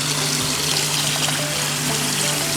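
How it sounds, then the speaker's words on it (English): Cold tap water runs steadily into a strainer to rinse cooked pasta, a constant close hiss and trickle over a faint low hum, with no voices. "I'm just going to run some cold water and just rinse it with some cold water"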